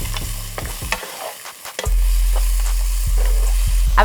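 Browned mushrooms and peas stir-frying in a pan for fried rice: a few scraping stirs and light taps, then a loud, steady low rumble and hiss of frying that fills the rest, with no talk.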